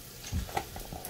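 Food is tossed in a hot frying pan while pan-searing sea scallops, giving a short, steady sizzle with a soft stirring shuffle.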